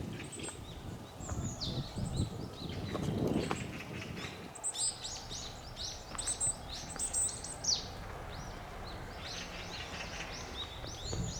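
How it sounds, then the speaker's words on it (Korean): Mountain birds chirp and sing in a hillside park as forsythia blooms, with repeated bright calls scattered over a rustling outdoor background and a brief louder scuffle early on. "산새들의 소리"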